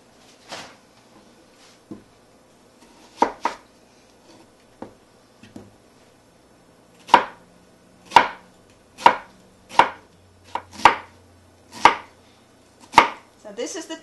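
Knife chopping onion finely on a board for Greek keftedes meatballs: sparse scattered cuts at first, then a steady run of crisp, close, evenly spaced chops, with no talking.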